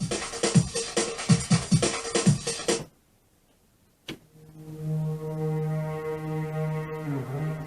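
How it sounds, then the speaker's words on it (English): Old Yamaha DJX keyboard playing a punchy drum loop that stops, followed after a short silence by a single hit and a sustained, droning synth pad chord, loud and close. "So there's a drum loop and a pad sound there."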